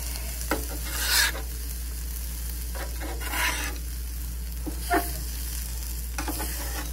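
Pork fried rice with peas and carrots sizzling on a Pit Boss griddle at a campsite, a steady faint sizzle broken by a few louder scraping stirs of the spatula.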